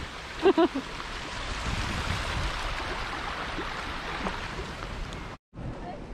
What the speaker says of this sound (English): Our little stream's got a bit of water in it.